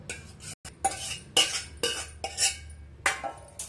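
A spoon repeatedly stirs and scrapes yogurt raita ingredients in a bowl, making an irregular series of close clinks and wet scraping bursts with short pauses between strokes.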